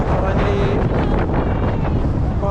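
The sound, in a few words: wind blowing into the microphone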